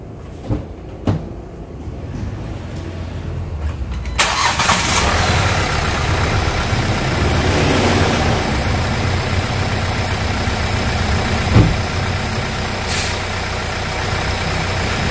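A Hyundai Accent CRDI diesel engine, just refitted with a cleaned throttle body, cranks after a few clicks, catches and settles into a steady, rough idle. It is heard close up and alone.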